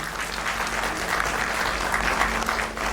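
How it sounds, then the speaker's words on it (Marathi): Audience applause at a felicitation ceremony and book launch, many people clapping together in a steady, moderately loud wash that holds for the full length without speech on top. "टाळ्या वाजवूयात सगळेजण"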